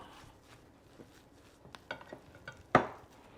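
Meat tossed in a hot pan with a splash of balsamic gives a quiet sizzle under a few soft scrapes, building to one loud clattering stir near the end.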